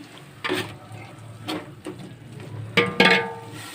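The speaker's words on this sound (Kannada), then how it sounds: "ಮಸಾಲ ಹಾಕಿಬಿಟ್ಟು ಈ ಥರ ಬಾಡಿಸ್ಕೋಬೇಕು ನೀವು ನೋಡಿ ಸ್ವಲ್ಪ ಹಸಿ ವಾಸನೆ ಹೋಗುವವರೆಗೂ ಫ್ರೈ ಮಾಡ್ಕೊಳ್ಳಿ" Ground masala paste frying in a pan for Arabian-style Muslim dum biryani, with soft sizzling and stirring scrapes that swell in a few bursts, loudest near the end.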